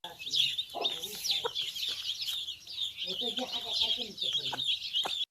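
A hen clucks softly while a newly hatched chick and others cheep continuously in high, busy peeps, close by and fairly loud.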